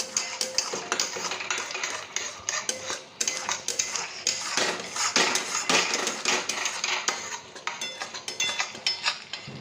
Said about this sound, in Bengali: এবার এটা দিয়ে ভালো করে নাড়তে থাকবো